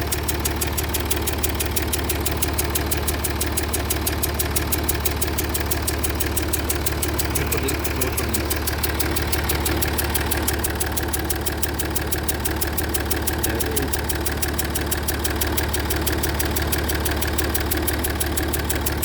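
A Jaguar XF S 3.0 engine idles with a knocking fault and an injector leak, a steady low drone with a rapid, regular ticking knock running continuously and no speech.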